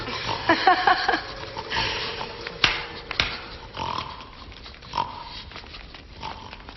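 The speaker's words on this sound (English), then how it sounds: "the enemies of love are turned into ugly pigs." Pigs grunt, snort and sniff in a short busy burst, close and moderately loud over murky, muffled old film sound, with a few squeals standing out near the end.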